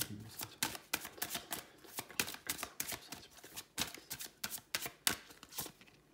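Tarot cards being shuffled and drawn for a December 2022 Cancer reading, a rapid run of crisp riffling snaps and slaps close by, repeating in bursts with no talk.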